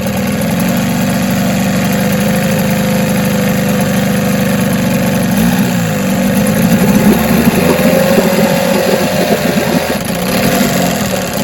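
A 1975 Mercury 4 hp outboard motor runs steadily while warming up after a pull start, a loud, continuous idle with a close, even, buzzing drone throughout and no talking.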